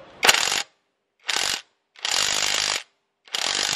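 A cordless impact wrench hammers at a 30 mm lug nut on a sedan, in four separate loud bursts of rapid rattling impacts with short silences between them.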